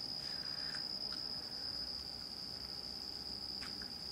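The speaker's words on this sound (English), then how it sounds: "There's actually a cricket in my wall." A cricket hidden inside a house wall chirps with a steady, piercing high trill that runs unbroken throughout, faint and slightly muffled over a quiet room hiss.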